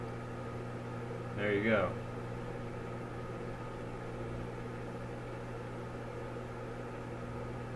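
A microwave oven heating a cup of water hums steadily with a low constant drone, and a brief spoken phrase rises over it near the start.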